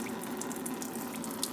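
Diesel fuel pours steadily out of a Farmall F20 tractor engine into a tub, a continuous close splashing gush of liquid with no voices.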